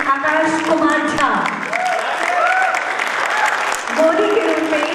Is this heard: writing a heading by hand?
no